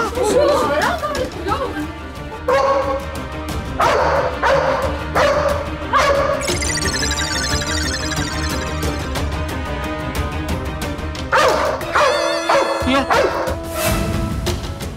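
Repeated dog barks, loud and close, in bursts throughout, mixed with people talking and background music.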